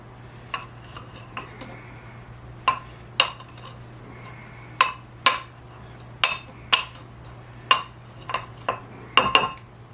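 A homemade pork spice rub is stirred and broken up in a bowl with a utensil, producing a series of sharp metallic clinks and taps at an irregular pace, close and crisp over a faint steady hum.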